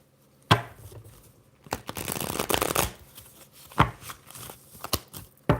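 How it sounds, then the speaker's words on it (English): An oracle card deck being shuffled by hand, sharp riffling bursts and slaps with a longer whirring shuffle in the middle, close up and alone. "one more quick shuffle off, I guess,"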